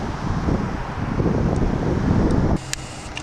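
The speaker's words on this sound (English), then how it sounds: "The wind is crazy cold right now, and it sucks." Cold wind blowing outdoors at a roadside, a steady low rumble buffeting the microphone for most of the span, then dropping abruptly near the end to a quieter background.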